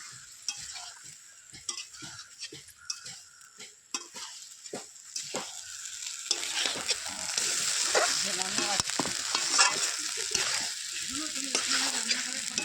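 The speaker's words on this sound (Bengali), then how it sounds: "আস্তে সয়াবিন আলু দিয়ে ভালো করে কষিয়ে নেব।" Soybean chunks and potatoes being stir-fried in a pan: rapid clattering spatula scrapes and taps at first, giving way to a louder, thickening sizzle as the frying builds, close up with no talking.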